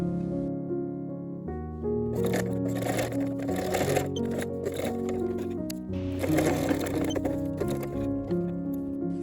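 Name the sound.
sewing machine stitching garment pieces together at the shoulders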